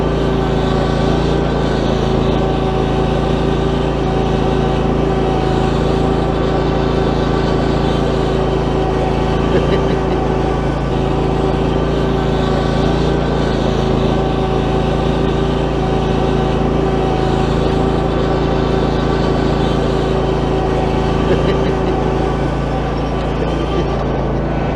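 A zero-turn mower drives across and up a grassy bank, its engine humming steadily and loudly at an even, unchanging pitch throughout with no talk.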